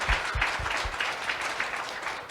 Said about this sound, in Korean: 모든 분들께 박수 한번 부탁드리도록 하겠습니다